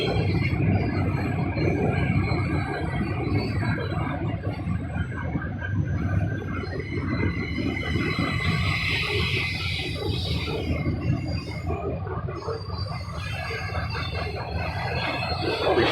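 A long freight train with locomotives at the front and in the middle rumbles steadily past a rail yard in Roanoke, Virginia. The continuous loud roar of wheels and cars is close, with faint metallic squeals over it and no talk.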